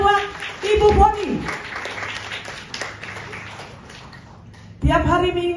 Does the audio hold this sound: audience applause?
yes